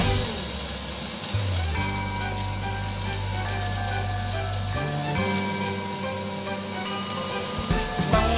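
Onion and garlic sautéing in a pan for soup, a steady loud sizzle and fry running throughout with shifting tonal hum beneath, no talk.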